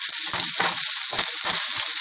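Chopped onions go into a pan with ginger and garlic for a Punjabi-style mixed vegetable sabzi, sizzling loudly in hot oil with a few soft stirring scrapes.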